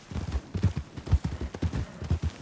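Horse hooves clip-clop steadily at a walking pace in the GoldRush RP video game, a close, even rhythm of hoofbeats with a faint whinny hint and no talk over it.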